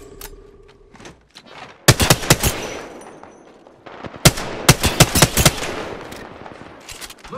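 Gunfire in Apex Legends, a fast burst of loud sharp shots followed after a short lull by a second rapid volley, close and punchy over a faint background.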